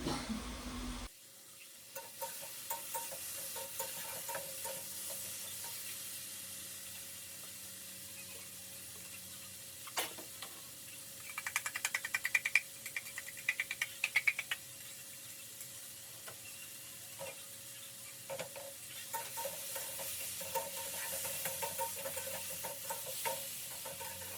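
A large potato curry sizzles steadily in a pan as it is stirred, with scraping and clattering from the spoon and a brief burst of running tap water midway; no one speaks.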